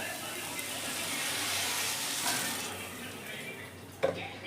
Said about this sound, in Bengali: এবার আমি এর মধ্যে দিয়ে দিচ্ছি পরিমাণ মতো জল।